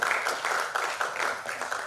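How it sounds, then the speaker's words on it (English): Applause from a conference audience at an international student conference, a steady wash of clapping with soft pulses, moderately loud and continuous throughout. "So give applause to yourself,"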